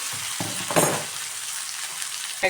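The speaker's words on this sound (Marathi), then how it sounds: "टोमॅटो कांदा व्यवस्थित भाजून घेऊ" Tomato and onion frying in a pan for a bitter gourd curry, giving a steady, close sizzle with a few brief bursts of stirring and spatula scrapes.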